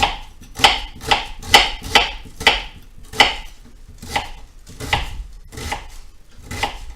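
A knife chops through food on a cutting board while preparing a sausage and vegetable mash, with steady, close, crisp thuds roughly every half second and no talking.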